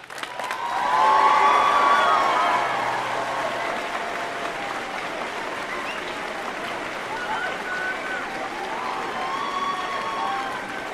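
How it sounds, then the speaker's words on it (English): A large crowd applauds at a university graduation ceremony, with sustained clapping that swells quickly at the start and then holds steady across a big outdoor gathering, with scattered cheers and whoops mixed in. "please stand so we can give you a well-deserved round of applause"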